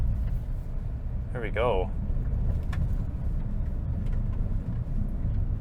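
A 2025 Hyundai Santa Cruz XRT rolls downhill off-road at about 18 mph through a sweeping right-hand turn, its steady low rumble and road noise continuous, with a brief spoken remark over it.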